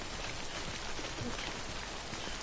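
Timefall rain from the video game Death Stranding falls as a steady, soft patter of raindrops on surfaces, faint and continuous with no talk.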